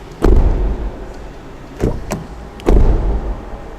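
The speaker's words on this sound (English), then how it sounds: "let's listen to the sound of the door" Door of a 2025 Lynk & Co 01 car shutting three times in quick succession, each a solid, close thud with a short sharp click, separated by brief quiet gaps.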